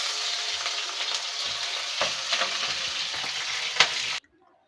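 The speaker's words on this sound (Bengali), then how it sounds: "বন্ধুরা, আলুটা প্রথমে ভেজে নিচ্ছি।" Potatoes fry in hot oil in a wok, crackling in a dense, continuous sizzle with a few sharper stirring scrapes, close and loud, before cutting off abruptly near the end.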